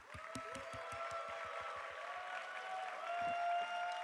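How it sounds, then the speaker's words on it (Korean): Applause from a church youth retreat congregation welcoming a pastor to the stage, a steady, dense clapping crowd that swells slightly near the end, with no talking over it. "우리 모실 때에 우리 큰 박수 함성으로 맞이하도록 하겠습니다."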